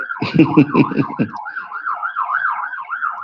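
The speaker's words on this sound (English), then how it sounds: "that's the ambulance going through the road" An ambulance siren wails loudly in a rising and falling pattern, with a burst of other traffic noise at the start.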